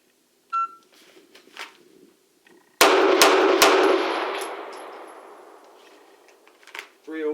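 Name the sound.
Beretta APX A1 Compact pistol shots hitting targets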